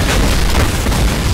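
A grenade explodes in the Counter-Strike: Source zombie escape map ze_infected_sewers, producing a loud, sustained booming blast that fills the whole moment without any speech.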